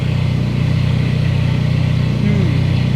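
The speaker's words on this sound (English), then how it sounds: "I put my foot on the throttle, and it's like suffocating" A Ferrari engine, an ex-rental car under rebuild, droning loudly and steadily with a restricted, choked rev, a slight rise near the end, close up and without talk.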